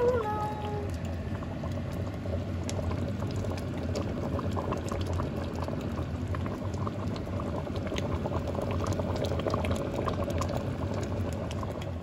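A pot simmers on the stove with a continuous bubbling, gurgling boil, close and even throughout, with no voices.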